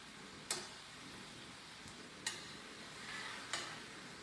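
Pineapple and mango caramelizing in a pan make a quiet background sizzle, broken by three sharp scraping stirs spaced about a second or more apart.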